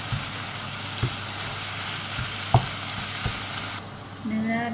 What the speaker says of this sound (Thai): เราจะผัดเนื้อต่างหากก่อนนะคะ